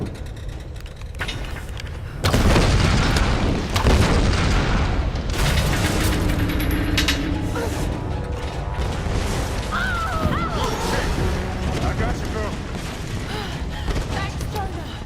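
Explosions in Tomb Raider (2013): a heavy boom hits after a quiet start, followed by sustained rumbling, crashing debris and mechanical creaks, loud and dense throughout with a few faint voice-like sounds.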